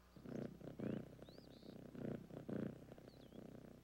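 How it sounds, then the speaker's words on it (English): A sweet, fluffy cat purrs softly in a steady rhythm of low rumbling pulses, with a few faint high chirps above and no talking. "I need a sweet, fluffy cat with a nice, soft purr"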